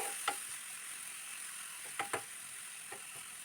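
Crushed coconut cooking in a pan for a green gram thoran, stirred with a spoon; a soft, quiet sizzle is broken by a few sharp scraping taps.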